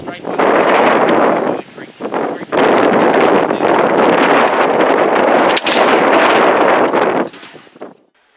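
A muzzle-loading black powder gun loaded with powder, patch and ball fires outdoors, giving one sharp, loud crack partway through heavy wind rumble on the microphone.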